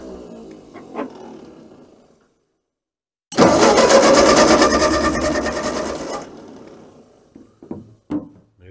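A small gas engine cranks for about three seconds with a rapid, loud, rattling rhythm and then stops without catching, while faint knocks and handling noises come before and after.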